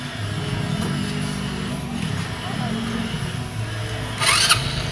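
Rusi TC-125 motorcycle engine starting and running close by, with a wavering mid-pitched engine note that rises and falls as the rpm shifts, and a brief sharp clatter near the end; voices talk over it.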